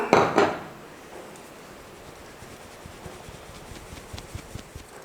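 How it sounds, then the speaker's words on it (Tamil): Wheat flour is sifted through a sieve, starting with a couple of sharp metallic knocks and then settling into soft, quiet, rhythmic scraping and tapping, close up with no voices. "மாவு முதல்ல சலிச்சிட்டு நம்ம சேர்த்துக்கலாம்."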